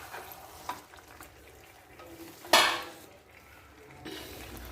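Chicken and curry leaves fry in a pan, with a low, steady sizzle under scraping stirs and light utensil clinks, then a sudden loud hiss burst midway that fades back to gentle frying.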